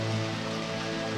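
Steady rain falls in Deadly Premonition, a dense wash of drops on a surface that holds constant from start to finish. Soft low musical tones sit underneath.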